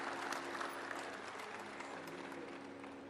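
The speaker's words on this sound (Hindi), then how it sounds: "अथर्व के लिए जोरदार ताली बजा दो भाई" An audience applauds for a child at a yoga gathering, a steady dense patter of many hands clapping at a distance, fairly faint and unbroken throughout.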